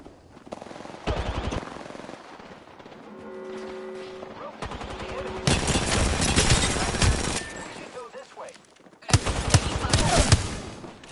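Bursts of automatic gunfire ring out in Apex Legends, rapid rattling volleys separated by quieter stretches with game sounds and tones between them, loud and close.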